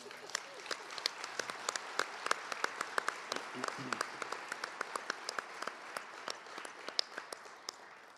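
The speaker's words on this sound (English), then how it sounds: "He gave a difficult part, and we didn't clap for him." Audience at a memorial celebration of life clapping, a fairly quiet room with sharp, distinct individual claps of moderate density rather than a dense roar.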